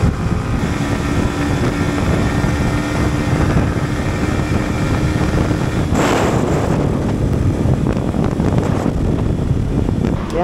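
A motorcycle races down a highway at high speed, giving a constant loud roar blended with heavy wind rush. A brighter surge passes close by around the middle, and the din stays unbroken throughout.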